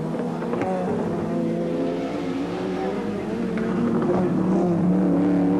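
Ford Sierra RS500 and Nissan Skyline GTS-R HR31 touring cars race down the straight at Sandown, their engines roaring loud and steady with shifting pitch as they pass close by.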